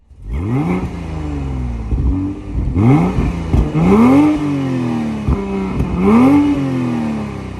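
A BMW 840i M Sport with its B58 straight-six revs repeatedly, rising engine pitch swelling and dropping in several close, loud pulls, heard from inside the car.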